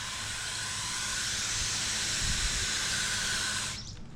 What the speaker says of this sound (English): Here's a mist test.